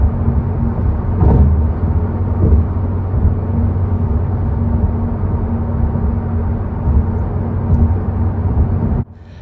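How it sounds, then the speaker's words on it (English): Steady broadband rush of wind and road noise inside a 2024 Acura Integra Type S cabin at driving speed, a constant dense roar lasting several seconds before dropping off abruptly, no talk. "let me give you another sample for the wind noise."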